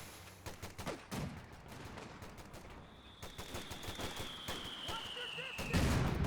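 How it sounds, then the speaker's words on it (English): A mortar volley in a video game battle, a rapid series of distant thumping shots and crackling bursts under a faint whistling tone, building to heavier impacts at the end, while a commentator talks over it. "Big volley from the mortars, dodged in time."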